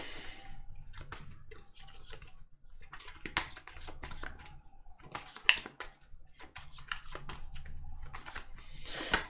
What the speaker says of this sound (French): On mélange les cartes avec les signes.